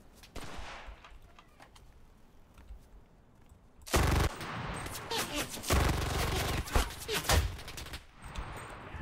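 Shotgun and rapid gunfire in the battle royale game Cuisine Royale: a quiet stretch with a few distant shots, then loud close blasts in quick succession from about four seconds on, with brief speech faintly underneath.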